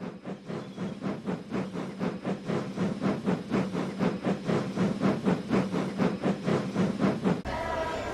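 A steam engine hauls a goods train, its rhythmic chuffing beats loud and steady throughout, with a hiss of steam and rolling wagons, ending in a brief change of sound near the end.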